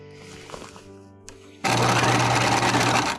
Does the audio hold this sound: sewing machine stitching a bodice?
yes